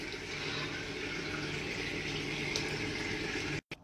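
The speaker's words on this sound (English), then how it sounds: "I'm gonna rinse with some water like I normally would" Running water rinsing a face at a sink, a steady hiss of flowing tap water lasting nearly four seconds, cutting off briefly near the end, with no talk.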